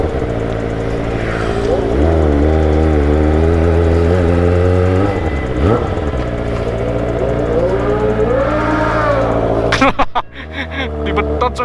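Two Kawasaki ZX sport bikes, a ZX-10R and a ZX-6R, rev hard in close, continuous loud engine drone with rising and falling swells, a sharp throttle drop near the end, and voices talking over the riding.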